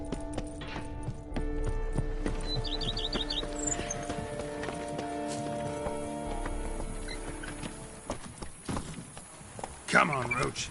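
Hooves of Geralt's horse Roach clop along in Witcher 3 Blood and Wine, a steady close rhythmic trot under game music and ambient tones, with a brief louder burst near the end.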